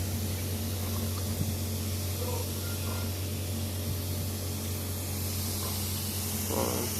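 An agricultural spray drone's nozzle hisses with a steady, continuous spray over a constant low mechanical hum, close and even throughout, with no talk.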